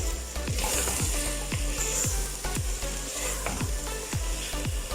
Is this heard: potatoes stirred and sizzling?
yes